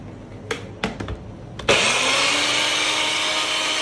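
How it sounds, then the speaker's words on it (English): A kitchen blender grinds a sauce of green onions, chilies, garlic, sugar, stock, black vinegar and fish sauce. A few clicks and knocks come first, then the motor kicks in loudly and whirs steadily and close up to the end. "Got everything in the blender. It's grind time."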